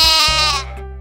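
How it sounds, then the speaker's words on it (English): A single sheep bleats in a children's cartoon, one loud, close, wavering call that fades out within about a second. "Sheep."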